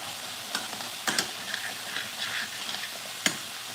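Food sizzling quietly in a pan beside a pot of cooking rice, with a soft steady hiss broken by a few sharp pops and crackles.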